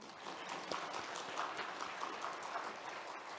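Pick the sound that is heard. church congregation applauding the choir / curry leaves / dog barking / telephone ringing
church congregation applauding the choir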